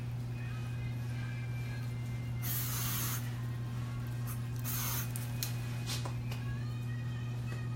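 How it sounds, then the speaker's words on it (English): Marula hairspray hisses in a few short bursts near a woman's hair during a salon updo, the brief sprays standing over a steady electrical hum. "Use our Marula hairspray again."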